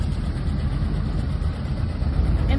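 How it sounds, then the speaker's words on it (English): A tractor working a hayfield with a John Deere 37 sickle bar mower hitched behind, cutting hay: a loud, steady engine drone with low rumble and constant broadband clatter, no pauses, no voices. "Cutting with the John Deere 37 sickle bar mower"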